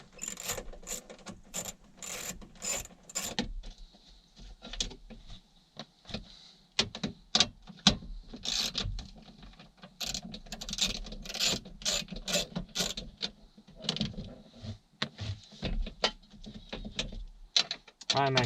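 Screws on the glove box hinge of a 1973–1980 Chevy square body truck are run out with a ratcheting tool, producing quick bursts of clicking and mechanical ratchet chatter in an uneven rhythm, close and moderately loud.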